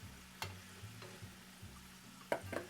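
Hand-cut french fries frying in oil in a home kitchen, heard as a soft steady sizzle with a few sharp clinks and scrapes, close and quiet.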